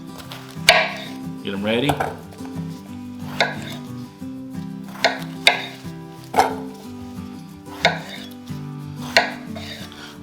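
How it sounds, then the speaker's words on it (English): Knife chopping rinsed tomatillos into quarters on a cutting board, about eight crisp separate cuts at an uneven, unhurried pace, close up, with a brief spoken line and faint background music. "first of all we're going to start off with 3 tomatillos that have been chucked and rinsed. And we're going to cut them up in quarters"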